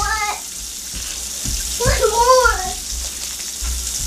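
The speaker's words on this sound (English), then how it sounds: "We're going to turn on our water." Kitchen tap running warm water while making bread, a steady hiss of flowing water throughout, with a person talking over it partway through.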